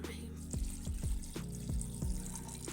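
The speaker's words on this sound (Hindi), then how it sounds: "इसमें मैं ऐड करूँगी हाफ गिलास पानी" Half a glass of water poured into a pressure cooker with spices, splashing and gurgling in several quick gushes at close range, fairly faint, with no speech.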